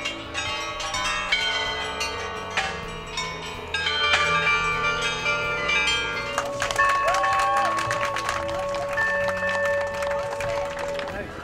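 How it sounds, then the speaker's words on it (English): A newly hung bell at the Flag of Peace Monument in Sofia rings in clear repeated tones over a crowd, with scattered clapping and murmuring beneath it. "The youth trade union structure hung a new bell at the Flag of Peace Monument"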